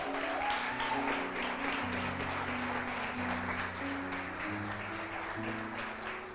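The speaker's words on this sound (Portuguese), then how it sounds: "Você pode aplaudir Jesus?" Congregation applauding during an evening church service, a steady wash of clapping beneath sustained organ-like music chords, moderately distant and even throughout.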